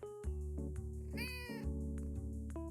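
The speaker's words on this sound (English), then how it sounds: "Kitty cat, hello little friend." A cat in the farming game Fields of Mistria gives a series of clear, high, tonal meows over a soft melodic game music backdrop, with no speech during the sounds.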